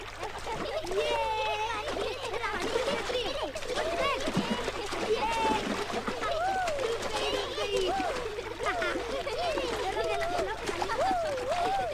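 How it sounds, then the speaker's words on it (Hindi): Children splash about while bathing in water, a steady busy wash of splashing mixed with excited young voices and chirping birds throughout. "बंद करो ये नहाना, नहीं तो सबको उठाकर थाने में बंद कर दूंगा।"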